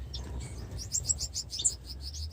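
Bengalese finches in an aviary give a run of quick, high chirps and tweets, repeated several times over a steady low hum.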